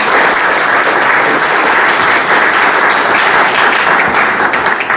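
A community meeting audience on Plum Island gives a sustained, dense round of applause, loud and steady from start to finish with no talk over it.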